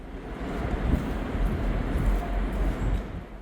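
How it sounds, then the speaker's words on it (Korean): A KTX-Eum train at Cheongnyangni station, a loud, continuous low rumble and rushing roar that swells and eases slightly, with no speech. "오늘은 KTX 이음을 타고 동쪽으로 향합니다."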